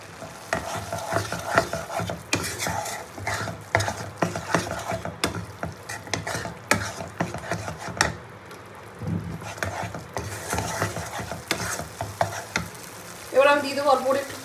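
Masala paste for butter paneer is fried and stirred in a pan, heard as a continuous sizzle with rhythmic scraping and knocking of a spoon. A brief bubbly crackle follows the stirring at the end.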